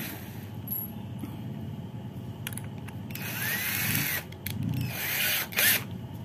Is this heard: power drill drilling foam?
yes